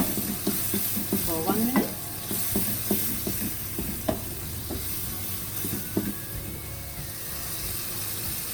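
Nasi goreng ingredients are stir-fried in a pan, with a constant loud sizzle and repeated scraping strokes of a spatula, a brief voice heard over the cooking.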